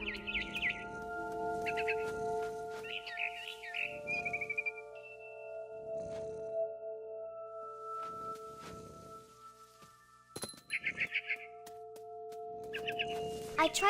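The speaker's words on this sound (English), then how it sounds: "I heard chirping outside my window. It was a barn swallow going back to her nest." Barn swallow chirping outside a window in the video game What Remains of Edith Finch, bright repeated twittering bursts over a soft ambient bed, with a narrator talking in between.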